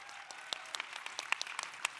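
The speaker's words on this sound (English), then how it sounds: "Please give them a big round of applause." Sparse, quiet applause from an audience at a leadership panel event, a thin scatter of individual claps over a soft hiss of room noise.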